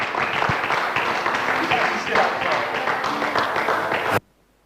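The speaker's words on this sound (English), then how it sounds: "Big round of applause, please." Sustained applause for a third-place finisher at a racing event's podium ceremony at Mugello, steady dense clapping that cuts off abruptly near the end.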